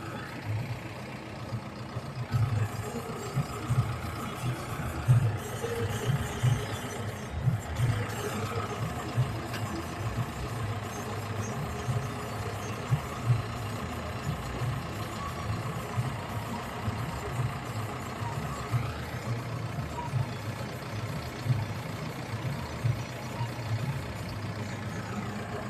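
A tractor engine runs steadily during village work spreading fertilizer, a low rumbling drone with slight rhythmic throbbing, continuous and moderately close for the whole stretch, with no voices.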